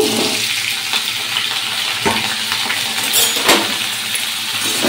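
Oil heating in a wok for frying gives a continuous broadband hiss and crackle, fairly loud and close, with a couple of faint metallic clicks and no talking.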